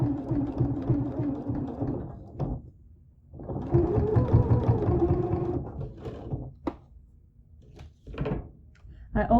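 A sewing machine stitches a hem along a garment's side seam in short bursts separated by pauses, with a few clunks and taps between runs, close and moderately loud.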